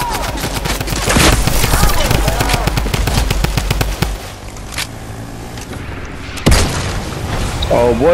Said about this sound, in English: he got me with a charged shotgun